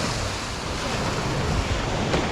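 Ocean waves surging and splashing against rocks near high tide on the Florida coast at Hobe Sound, a continuous loud wash of surf mixed with wind buffeting the microphone, no voices.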